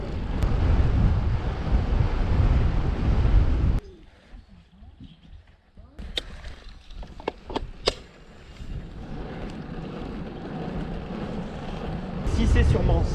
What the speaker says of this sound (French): J'ai droit à un petit vent de nord-est là, sympa.